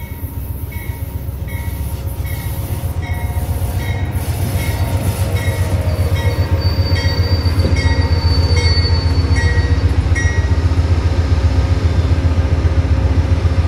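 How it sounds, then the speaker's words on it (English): The northbound Amtrak Adirondack passes close by at Plattsburgh with historic Northern Pacific dome cars at the rear, its wheels rumbling and clacking loudly and steadily with faint squeals throughout. "I caught the northbound Amtrak Adirondack in Plattsburgh with a pair of historic Northern Pacific dome cars bringing up the rear."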